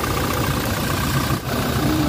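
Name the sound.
Toyota Fortuner 2GD diesel engine idling after start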